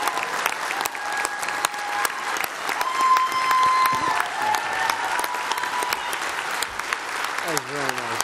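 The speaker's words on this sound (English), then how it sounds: "Give him a giant round of applause." Loud sustained applause from a crowd, dense clapping throughout with a voice speaking over it.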